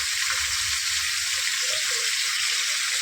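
Red fish and fish roe sauté in a pan for a red fish fry and curry, giving a steady, close sizzling hiss with faint bubbling and no voices.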